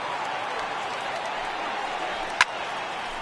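Crowd of over 39,000 at a Phillies–Braves baseball game on its feet, a dense sustained roar of cheering and applause with a brief sharp crack just before the end.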